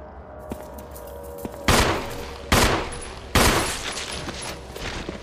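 Gunshots in Resident Evil HD: three sharp, loud gunshots spaced about a second apart, each with a short reverberant tail, over a low ambient hum.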